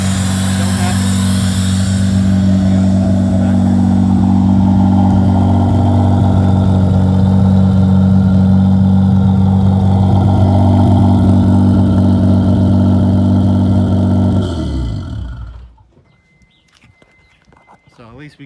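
A Mitsubishi Galant VR4 engine runs at a steady, loud idle with a deep rumbling drone, then cuts off abruptly near the end and leaves near silence.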